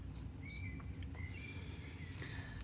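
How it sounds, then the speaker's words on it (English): Recorded bird songs played for house cats, a mix of high whistled calls and sliding chirps repeating over a low hum, soft and steady throughout with no speech. "put up these bird sounds you hear"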